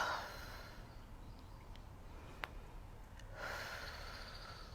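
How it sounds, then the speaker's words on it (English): Slow yoga breathing with a deep breath at the start, a quiet stretch in between, and another long, airy exhale near the end, soft and close with no talk. "Exhale. Take 3 more breaths."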